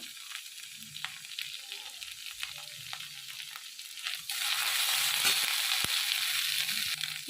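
Asafoetida hits hot oil for a vegetarian cabbage and paneer curry, starting as a soft crackle with light stirring, then swelling into a loud, steady sizzle partway through.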